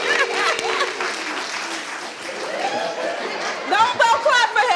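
Studio audience on a daytime talk show clapping loudly and steadily, with chatter and a few chuckles mixed in, then voices rising over the applause near the end.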